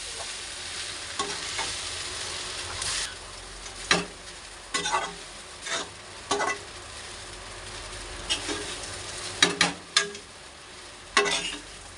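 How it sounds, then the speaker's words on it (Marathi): Kande pohe, soaked flattened rice with onion, is stirred in a pan over low heat: a steady low sizzle runs throughout, broken by repeated scraping and spoon strokes against the pan, with no talking. "ह्याला एकदम मिक्स करून घ्या छान असं।"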